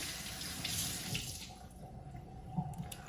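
Room-temperature water runs steadily from a kitchen tap while a boiled lobster is cleaned, a constant splashing hiss with occasional clinks from the sink.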